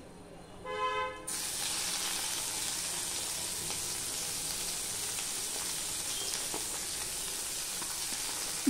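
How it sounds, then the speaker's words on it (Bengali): Chopped onion tips into hot oil with whole garam masala spices, setting off a sudden loud sizzle that settles into a steady, close frying hiss. "এবার এর মধ্যে আমি এই পেঁয়াজ কুচানোটা দিয়ে দিচ্ছি।"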